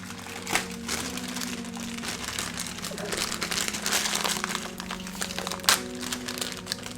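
Mini plastic sneakers are unwrapped from their plastic packaging up close, a run of crinkling and crackling rustles with a couple of sharper snaps, over a faint background hum.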